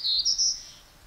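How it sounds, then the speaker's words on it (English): Black-throated gray warbler sings a short, high, thin phrase of a few buzzy notes, clear and fairly near, then silence. "The black-throated gray warbler."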